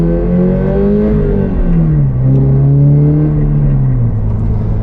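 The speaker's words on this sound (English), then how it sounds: "Oh, that Remark exhaust, I love that." A rear-wheel-drive Toyota GR86/Subaru BRZ with a Remark exhaust revs loudly up close, a deep throaty drone rising and settling as the engine climbs, holds and eases off, rumbling low under the whole stretch.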